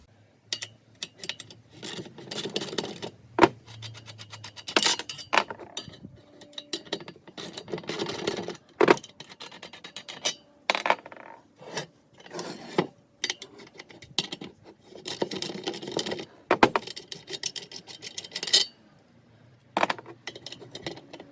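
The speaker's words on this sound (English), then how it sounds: "First, I will remove the old rusty nuts and bolts." Old rusty nuts and bolts come off an aluminium lighting truss in a series of close metallic clinks, rattles and scrapes at irregular intervals, with quiet pauses between bursts and no talk.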